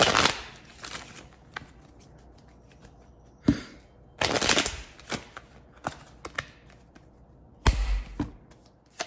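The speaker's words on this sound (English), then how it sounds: "I'm going to put it back in and shuffle." Tarot cards being shuffled by hand in repeated riffling bursts with soft taps and thumps between them, close and fairly quiet, with no talking.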